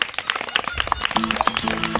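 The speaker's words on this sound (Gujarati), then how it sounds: "વ્યવસ્થિત તાળી પાડો મસ્તીની" Schoolchildren at a primary school clap together in a rapid, dense burst of applause, close and fairly loud, with voices talking and calling out over the clapping.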